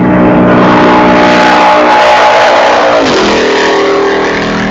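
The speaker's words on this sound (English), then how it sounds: "that's Mark Landry going through his top speed, 163 miles an hour right there." A Corvette ZR-1 race car engine screams at high revs, very loud and close, passing at about 163 mph, then its pitch drops sharply as it speeds past and pulls away.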